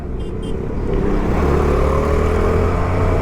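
A superbike on a mountain road, heard as a loud, close engine drone that rises steadily in pitch as the bike accelerates, with a continuous rumbling roar and no talk.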